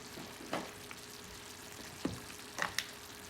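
Chicken drumsticks simmer in a thickening soy-style glaze on a stovetop, a soft steady sizzle and bubbling with a few light stirring clicks and pops, quiet and close.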